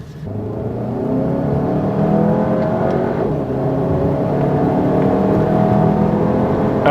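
A Mercedes-Benz GLB or VW Tiguan Allspace SUV in sport mode accelerates, its engine giving a steady, rising drone heard from inside the cabin with no talk.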